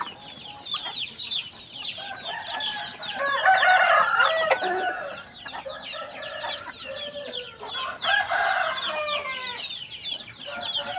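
Several chickens cluck and squawk close by, with a rooster crowing among them in an irregular, busy chorus.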